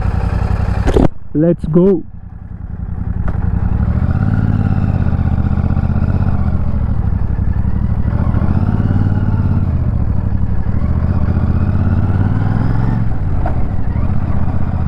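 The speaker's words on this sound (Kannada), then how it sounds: "ಇಂಜಿನ್ ಸೌಂಡ್ ಈ ಥರ ಕೇಳಿಸುತ್ತೆ, ಎಕ್ಸಾಸ್ಟ್ ಸೌಂಡ್ ಈ ಥರ ಕೇಳಿಸುತ್ತೆ." A 650cc motorcycle engine with a 270-degree crankshaft starts after someone speaks briefly, then settles into a steady, close, deep idle rumble with exhaust throb that runs unbroken to the end.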